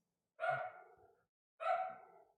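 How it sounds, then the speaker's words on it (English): A dog at home gives two sharp barks about a second apart, each clear and close with nothing else sounding around them. "So I am here with the dogs and no one's upstairs to calm them down. So they're freaking out for nothing."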